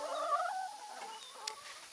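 Backyard chickens, a rooster among the hens, making soft clucking and crooning calls, faint and close-ish in a quiet outdoor setting.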